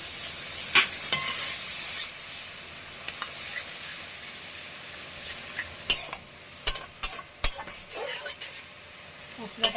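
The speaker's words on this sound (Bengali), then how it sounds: "মশলাটাকে আমি এবার কষাতে থাকবো। ধীরে ধীরে তেল ছেড়ে যাবে" A spice paste of masala and tomato paste sizzles in hot oil over fried onions, a soft steady hiss broken by sharp metallic scrapes and taps of a stirring utensil that grow more frequent toward the end.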